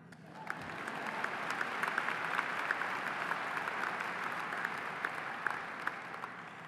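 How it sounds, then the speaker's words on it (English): Sustained applause from a commencement audience at a university graduation ceremony, a steady wash of many hands clapping at moderate distance with a few sharper claps standing out. "Y'all can clap."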